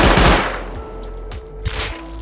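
Automatic turret in the Rust survival game firing a rapid burst, loud and close, with dense overlapping shots that trail into scattered reports and echoes.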